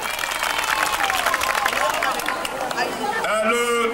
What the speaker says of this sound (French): On applaudit très très fort, mesdames et messieurs.